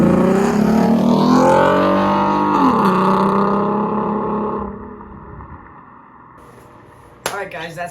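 A Ford Mustang V6 with shorty headers revs hard with a loud, raspy exhaust roar, then the engine settles toward a lower idle before a sharp burst at the end.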